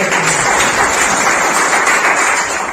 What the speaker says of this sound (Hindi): सर के जोरदार ताली बजा